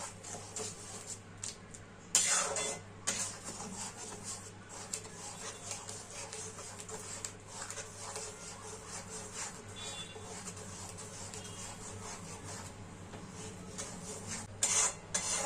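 A spoon scrapes and stirs matar dal cooked with bottle gourd greens (lau shak) in a pan, making quiet, repeated rasping strokes with a couple of sharper scrapes.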